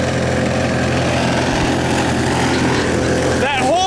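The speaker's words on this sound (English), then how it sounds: "They're putting huge branches inside the wood chipper." Wood chipper shredding huge tree branches during a tree removal, a loud steady mechanical roar running throughout, with a brief rising whine near the end.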